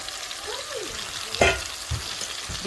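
Salted hilsa frying in oil in a pan, a soft steady sizzle broken by a few scraping stirs and one louder spatter, close and fairly quiet.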